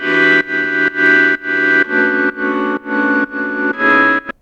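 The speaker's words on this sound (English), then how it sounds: "I then have this organ," Sustained organ chords, layered with piano, pulse in short repeated blocks with brief gaps between them, bright and close.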